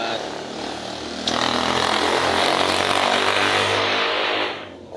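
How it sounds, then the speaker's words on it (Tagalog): A motorcycle passes noisily close by on a street near a repair shop, its engine roar jumping in loudly, holding steady for a few seconds and then fading, with a voice speaking faintly underneath. "dumaan kasi mga choy motor, maingay"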